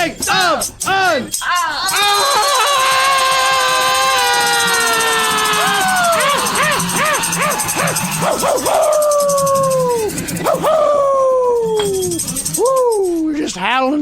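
A dog howls close and loud in long, wavering, rising and falling cries, repeated several times, with short yips and whimpers between the howls.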